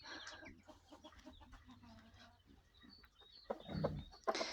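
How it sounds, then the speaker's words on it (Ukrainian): A Shamo hen and rooster cluck softly and steadily nearby in a yard, with a few louder squawks near the end; quiet outdoor farmyard ambience. "Ось курочка, яка з ним ходить."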